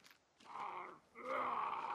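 Drawn-out groaning screams from a hostile cannibal enemy in the survival game The Forest, two swelling wails separated by a short pause, fairly close and loud with no talk over them.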